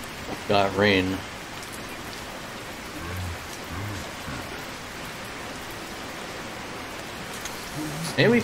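Rain falling steadily in the Placid Plastic Duck Simulator game, a continuous soft hiss throughout, with someone talking briefly at the start and again at the very end.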